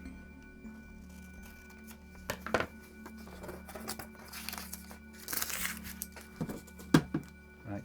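Paper cosplay build templates for a Power Loader torso and seat being cut out, with scattered crinkling, tearing and snipping sounds in short bursts, close and fairly quiet over a low steady hum.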